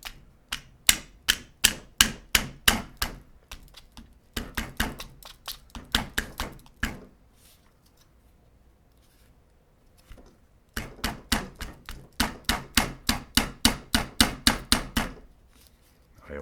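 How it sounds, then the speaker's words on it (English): Rapid repeated hammer taps in two bursts, sharp and close, separated by a quiet pause of a few seconds, while hammering LOK brass grips onto a P320 pistol frame. "You should probably just hammer away"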